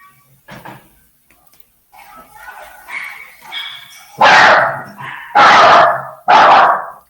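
A small dog whimpers and yips softly, then lets out three loud, close barks in quick succession.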